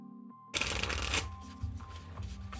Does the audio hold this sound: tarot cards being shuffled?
yes